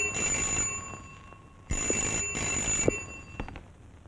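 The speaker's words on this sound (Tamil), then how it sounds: "மணி அடிக்குது" A telephone rings in a domestic film scene, its bright trilling bursts repeating in a steady on-off pattern, fairly close with no talking over it.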